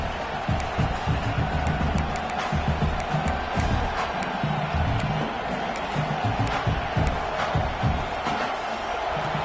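A college football stadium crowd roars and cheers continuously, a dense loud wash of voices with scattered whoops and claps, heard behind a commentator's speech.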